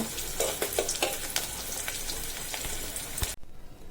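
Radish greens frying in oil with garlic in a pan, a loud steady sizzle with stirring clatters throughout that cuts off abruptly near the end.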